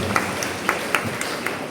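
An audience applauds during a blessing ceremony for a priests' residence at St. Joseph's Knanaya Church, Arunoottimangalam: a dense, moderately loud wash of clapping from many hands, with scattered sharper claps standing out.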